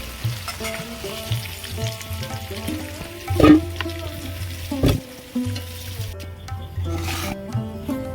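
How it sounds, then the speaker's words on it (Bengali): Potatoes fry in hot oil with a loud, continuous sizzle, broken by a few louder scraping stirs and clatters near the middle. "আলুগুলো আমি ভালো করে ভেজে নিয়েছি তুলে নেবো"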